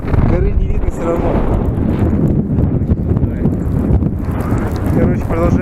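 Strong wind buffets the microphone in a small hollow between mountain ridges, a loud, continuous roar with low rumbling gusts throughout, while people talk over it.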